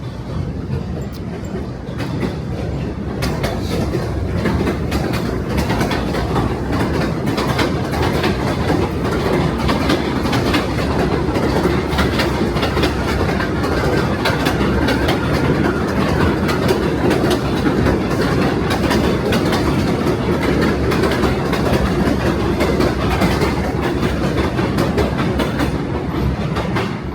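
A train rumbles past a street-level rail crossing at Bay Parkway and 86th Street in Bensonhurst, Brooklyn, on a snowy day, loud and close with steady clickety-clack of wagons filling the whole stretch without pause.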